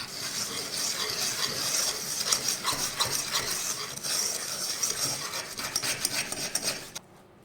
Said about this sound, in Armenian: Մի լավ խառնում ենք։